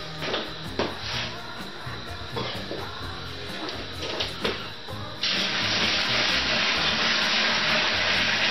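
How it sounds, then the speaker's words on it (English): Water runs into a plastic home brew fermenter for a Coopers Mexican Cerveza kit, first with intermittent splashes and knocks, then a steady, louder rushing stream filling the vessel. "Then we're going to add the water."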